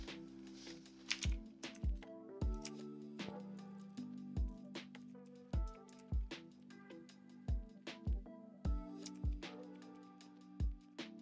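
Terminal commands are typed on a computer keyboard, a close run of quick, uneven key clicks with short pauses between bursts and no talking.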